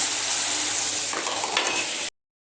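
Chicken meat frying in a pan for a spiced chicken or pulao dish, a steady broadband sizzle with occasional stirring scrapes, close and fairly loud, cutting off abruptly near the end.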